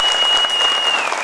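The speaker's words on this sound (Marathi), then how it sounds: "सगळ्यांसाठी टाळ्या वाजवा एकदा" Steady, dense applause from a political rally audience at Patilwada in Akluj, loud and continuous throughout with no pauses, a faint thin tone running behind the clapping.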